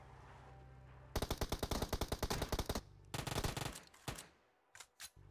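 Automatic rifle fire in the mobile battle-royale game PUBG Mobile: a long rapid burst of close, loud shots, a short pause, a second quicker burst, then a few single spaced shots trailing off.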